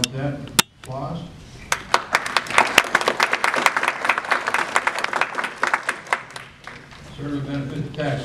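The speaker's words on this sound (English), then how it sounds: "Now, with that, applause." A small group claps at a county council meeting, scattered sharp hand claps rising into a brief round of applause before tapering off, with voices speaking just before and after.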